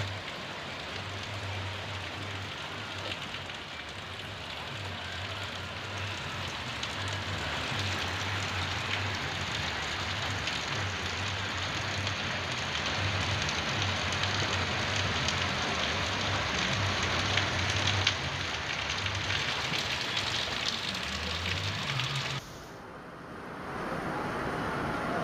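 Steady rain pours down in Gujarat, a dense continuous hiss with a low intermittent hum underneath, holding at an even, fairly loud level before cutting off abruptly near the end.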